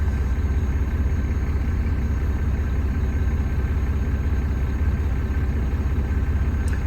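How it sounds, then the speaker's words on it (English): A truck engine idles just after a cold start, a steady, even low rumble with a faint pulsing throb, close and constant throughout, with no voices. "I just started the truck up"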